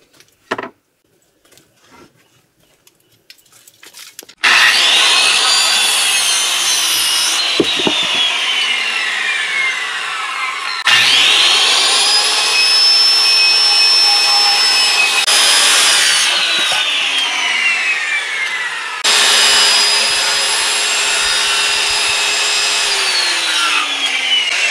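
Wooden porch rafter being sawn for a seat cut and tail cutoff on a log cabin, three long loud continuous power-saw passes with rising whine, following a few faint handling knocks.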